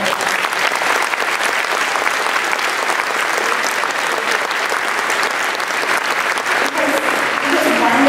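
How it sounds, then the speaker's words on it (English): Sustained, dense applause from a large audience at an award ceremony, loud and even throughout with no pauses, many hands clapping together. "Let's give them a round of applause."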